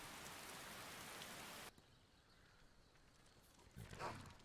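Rain falls in the video game Skyrim, a dense steady hiss that abruptly drops to a much quieter patter, followed by a brief louder rumble near the end.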